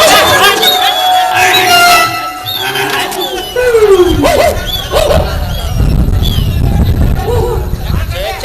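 Several dogs bark, yip and whimper amid a noisy crowd, loud and close, with people talking over the commotion.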